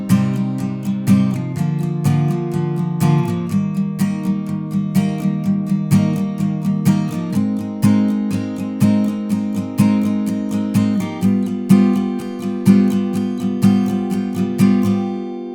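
Acoustic guitar strums simple chords for the bridge in an easy version, a steady rhythmic strumming pattern with changing chords for about fifteen seconds, heard alone and close.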